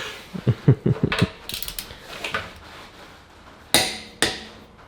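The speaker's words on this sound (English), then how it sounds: "A good practice is to torque your lug nuts, or in this case lug bolts." A torque wrench tightens lug bolts on an Audi RS3 wheel, giving a quick run of ratcheting clicks followed by scattered metallic knocks and two sharp clanks, close and without speech.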